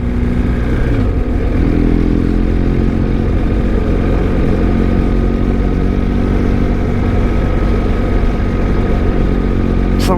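A motorcycle engine drones steadily and loudly throughout a ride down a steep mountain pass in Ireland, mixed with constant wind rush and no clear speech.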